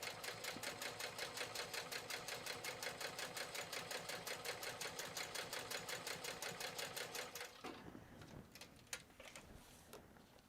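A sewing machine top-stitches a fabric pouch through several thick layers in a fast, even run of needle strokes for about seven seconds, then stops, followed by quiet handling clicks and rustles.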